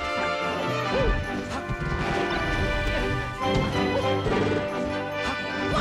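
A forward smash lands in Super Smash Bros. The sharp crash of the hit sits inside a dense, loud mix of game music and effects that plays steadily throughout, with faint voices beneath.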